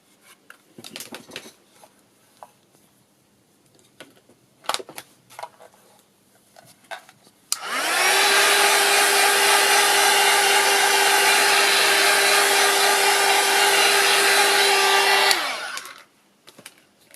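After some light handling clicks and taps, a hair dryer kicks on to dry paint on a journal page, blowing with a loud steady close whine for about eight seconds before cutting off.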